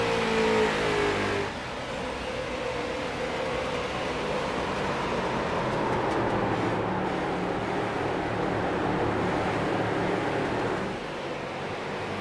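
Street stock race cars at New Hampshire Motor Speedway in iRacing roar side by side toward the line, a continuous loud engine drone with a brief higher whine early on, steady throughout with no talk.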